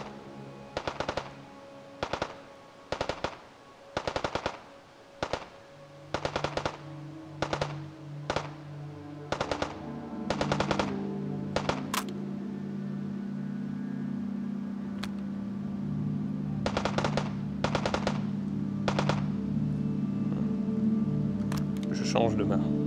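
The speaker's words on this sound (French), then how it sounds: "je vais retourner voir là où on les entend tirer" Enemy gunfire in a video game: a long series of sharp, evenly spaced shots, followed by a steady low mechanical rumble with sporadic clicks, while someone talks over it.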